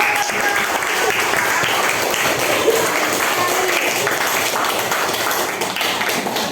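Classroom applause for a student group presentation, steady, fairly close clapping from a small crowd lasting several seconds with little talk.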